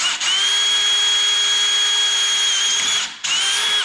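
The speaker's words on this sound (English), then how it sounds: "Just to ream one more." A power drill reams out a plastic carp-fishing baiting pole, a steady high whine held for several seconds with a brief dip near the start and a short break near the end, loud and close with no talk.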